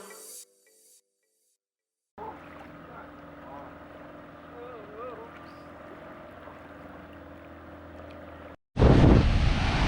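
Rough ocean surf off Jamaica roars steadily with heavy wind buffeting, then a sudden loud burst of crashing water near the end.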